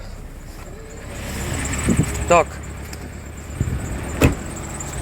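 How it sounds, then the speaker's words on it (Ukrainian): A car on good winter tyres rolls slowly from level ground onto a dirt track with one wheel, engine droning steadily under bumps and creaks, while someone speaks briefly. "І зараз виїхали трошки на ґрунтовочку одним колесом."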